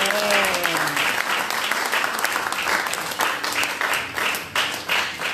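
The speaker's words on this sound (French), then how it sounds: "Nous pouvons donner une offrande d'applaudissement à toutes ces mamans." At a ceremony honoring women, a crowd claps in loud, sustained applause that starts just as a voice trails off, then thins into scattered claps toward the end.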